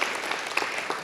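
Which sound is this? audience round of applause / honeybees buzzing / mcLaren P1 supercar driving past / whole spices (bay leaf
audience round of applause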